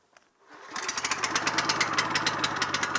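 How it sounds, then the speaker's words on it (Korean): A walk-behind cultivator's small engine is pull-started, catching after a brief rope pull and then running loudly with a fast, rough, pulsing chug. "엔진 소리가 되게 부자연스러워져요"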